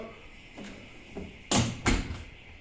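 The original top case on a Honda Forza scooter is pressed and its lid pops open: a couple of soft clicks, then two sharp, close latch-and-lid knocks about a third of a second apart.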